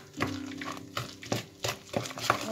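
A spoon stirs a potato mixture seasoned with salt and pepper in a bowl, soft close scraping strokes with several brief clinks and squelches, no speech.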